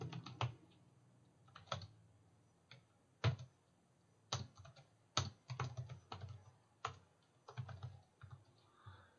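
Keys click on a computer keyboard in short, irregular bursts while typing up a program, quiet and close, with pauses between clusters of keystrokes.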